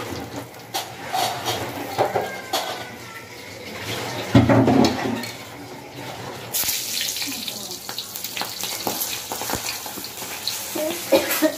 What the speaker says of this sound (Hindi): पड़ाके मारती है